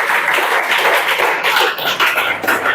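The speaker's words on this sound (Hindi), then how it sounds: "जोरदार ताली बजाओ जी" Hands clapping in a group during a classroom quiz session, a steady dense patter of many claps close by with no talk over it.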